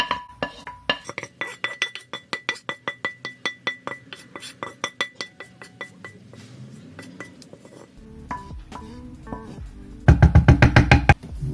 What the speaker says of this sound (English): now that my rice cakes are finished cooking, I'm gonna put them into this container